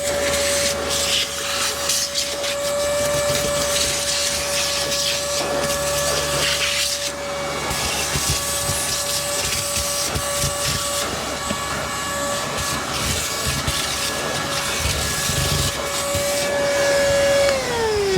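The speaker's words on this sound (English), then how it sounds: "we'll just do a cursory hoovering out" Vacuum cleaner hoovering rust and foam debris out of the interior of a Rover 200 BRM, a steady loud whine with a droning motor hum throughout, with brief shifts in pitch as the nozzle moves and sucks up debris.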